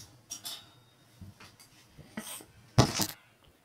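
A few light metallic clinks and rattles, then a louder clatter near the end, like scissors being picked up from among utensils, close by.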